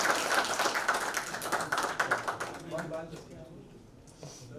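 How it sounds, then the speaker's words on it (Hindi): An audience at a song launch event claps in a crisp, close round of applause that gradually thins out, with voices talking toward the end. "जोरदार तालियां बजाइए"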